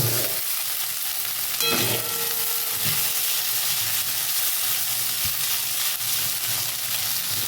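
Sago pearls fry in a pan over gentle heat, giving a steady, close hiss and crackle with occasional stirring knocks and scrapes.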